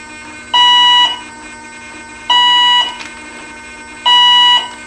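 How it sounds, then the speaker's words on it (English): Airboss Elite electronic speed controller emitting three loud, evenly spaced electronic tones, each about half a second long with short gaps between them, as it counts battery cells and arms after a reset to factory defaults. "you can hear it count the cells, and it's armed"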